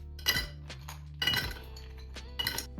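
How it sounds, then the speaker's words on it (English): Ice cubes clink into a large heat-proof pitcher in three bright bursts of rattling, glassy knocks, close and crisp with quiet between them. "Grab a large heat-proof pitcher. Fill it with plenty of ice cubes or crushed ice."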